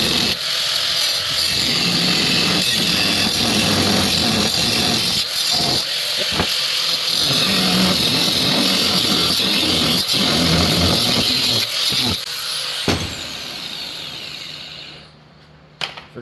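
A power tool cuts steel on a 1965 Chevy C30 pickup, throwing sparks; a loud, steady grinding whine runs almost unbroken, with brief dips, then trails off into quieter shop noise at the end.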